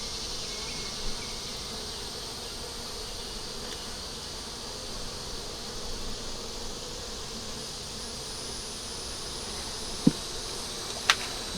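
Honey bees hum in a steady, dense drone inside a young starter nuc hive, close and continuous, with a couple of faint clicks near the end and no talking.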